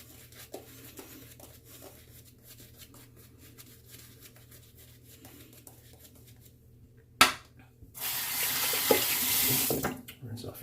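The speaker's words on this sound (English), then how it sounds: "Rinse off your hands." Water gushes from a bathroom tap for a couple of seconds to rinse hands during a shavette shave, a loud steady splash coming in after quiet rustling and small handling noises.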